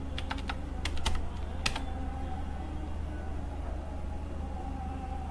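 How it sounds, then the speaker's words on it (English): Rapid typing on a computer keyboard, a quick flurry of close clicks at the start that stops after about two seconds, leaving a low steady hum. "So let me type hey."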